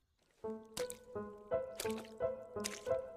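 Blood dripping from windows in a horror story, heard as a slow, regular run of about eight hollow, ringing drops falling one after another, close and distinct against a quiet background.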